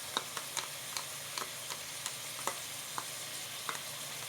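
Beef and spices fry in a pot for a yakhni pulao, giving a soft, steady sizzle with faint ticks of stirring scattered through it, quiet and with no voices.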